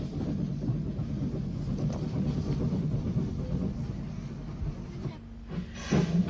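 A British Railways train pulls out along a double-track section on the Isle of Wight, a steady low rumble and hiss with faint rhythmic clatter holding level throughout, swelling slightly near the end.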